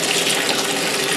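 Soapy water gushes out of a DIY off-grid camping clothes washer as it is dumped, a loud, steady, close pouring rush that fills the whole moment, with no talking.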